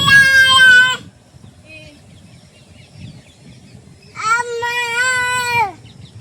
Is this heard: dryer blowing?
no